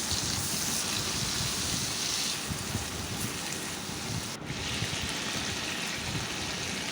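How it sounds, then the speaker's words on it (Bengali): A masala of cumin, slit green chillies, ginger paste and tomato paste fries in hot oil for a Katla fish curry, giving a continuous, even hiss and sputter close by. "এখন মশলাটা ভালো করে তেলের সাথে ভেজে"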